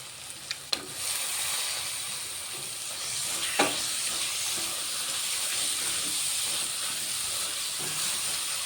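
Prawns and onions frying in coconut oil in a pan, a steady loud hiss and sizzle running throughout after a few clicks at the start, with a brief scrape midway.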